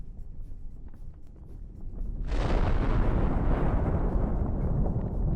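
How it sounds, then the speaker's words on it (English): A Russian military vehicle detonating in combat erupts into a loud, sustained roar of explosions partway through, following a lower rumble of distant blasts and continuing as a dense, crackling wall of sound. "That's a Ukrainian tank, waiting for the Russian vehicle to finish detonating."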